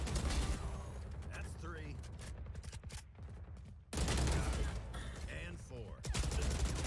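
Rapid bursts of gunfire from a video game played on an Acer Nitro 5 laptop, loud and repeated over the whole stretch, with someone talking over the shooting.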